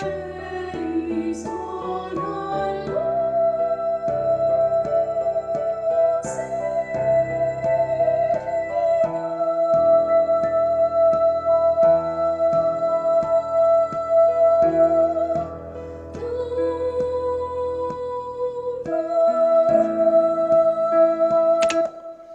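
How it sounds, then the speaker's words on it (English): A soprano section sings a sustained melodic line in unison over a busy accompaniment, steady and full throughout, with no speech. "Let's hear just the sopranos for a moment."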